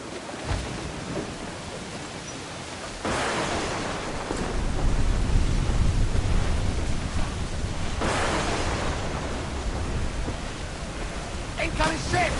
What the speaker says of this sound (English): Storm captain, looks bad!